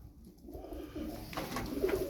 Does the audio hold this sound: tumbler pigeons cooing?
yes